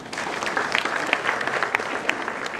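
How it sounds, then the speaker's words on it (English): Loud, dense clapping from a crowd at a university public lecture, many hands at once with a few sharper claps standing out, sustained evenly for a few seconds. "Let's clap for them."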